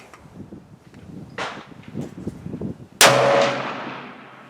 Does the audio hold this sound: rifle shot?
yes